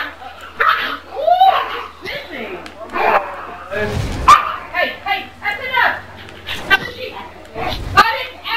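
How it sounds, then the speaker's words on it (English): A dog barks repeatedly in the Call of Duty Ghosts video game, sharp yips and barks scattered over several seconds amid game noise and players' voices talking over it. "I'm gonna fucking break the dog's neck."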